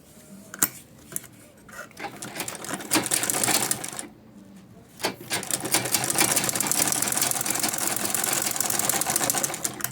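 A sewing machine stitching a belt onto a fabric triangle bag, running in loud rapid mechanical bursts with a brief pause near the middle before resuming continuously.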